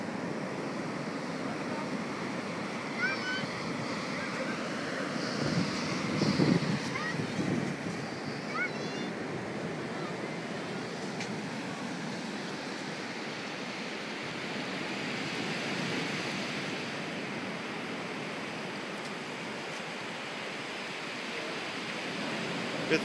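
Steady broadband wash of surf rolling onto Whitley Bay beach as the tide comes in quickly, continuous and fairly near, with brief children's voices and wind buffeting over it.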